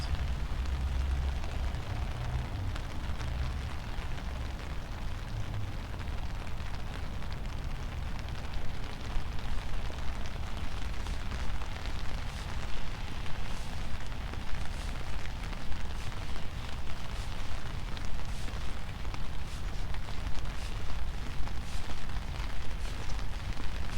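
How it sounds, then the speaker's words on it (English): Steady rain patters on an umbrella outdoors on a city street, a dense continuous hiss of drops that stays even and moderately loud throughout, with no talk over it. "As you can hear from the sounds of my umbrella, it's raining."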